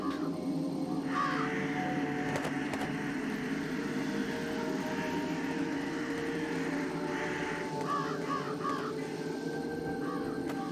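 Crows in the video game Jenny LeClue, cawing in several hoarse bursts over a steady ambient hum while knocking over a tree, the calls clustered near the start and again toward the end.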